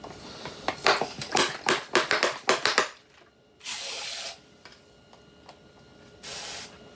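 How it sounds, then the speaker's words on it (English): A garden pump sprayer gets a quick series of sharp pumping strokes, followed by two longer bursts of hissing mist with quiet gaps between them, all close and fairly soft. "there's your regular garden sprayer"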